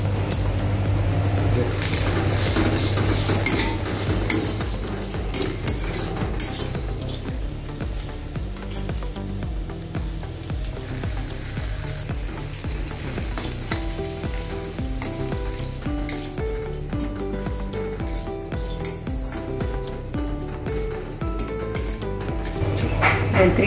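Curry leaves sizzle and crackle steadily in hot oil in a pan, a dense continuous frying sound with occasional stirring scrapes, while a voice talks in the background.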